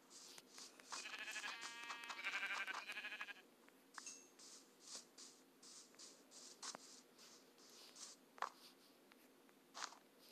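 Minecraft sheep bleating in a survival game, a wavering bleat followed by game clicks and soft footsteps, fairly quiet overall with no talk.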